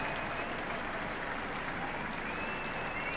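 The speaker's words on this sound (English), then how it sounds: "round of applause from the thousands of people who have gathered here in the Mall" Thousands of spectators gathered along the Mall for the RAF centenary airshow applauding; a steady, distant-sounding wash of clapping with no break.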